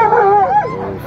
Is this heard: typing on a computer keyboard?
no